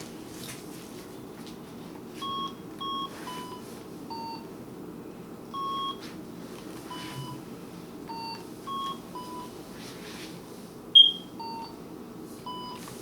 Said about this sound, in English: can you pick up that phone and dial it for me?